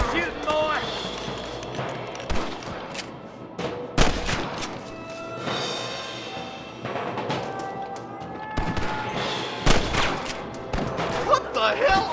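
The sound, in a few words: gunfire shootout in Red Dead Redemption video game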